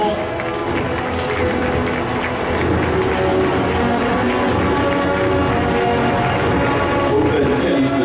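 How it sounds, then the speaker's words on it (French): Spectators at a karate competition clap for a delegation's entrance, a steady, dense applause mixed with crowd noise and a voice over a loudspeaker, continuing throughout. "Sous vos applaudissements, s'il vous plaît, plus chaleureux que ça."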